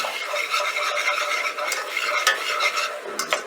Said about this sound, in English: Now that I have my butter melted, I'm gonna go ahead and add some flour in there